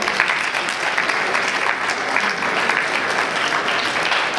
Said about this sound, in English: So let's give her another round of applause.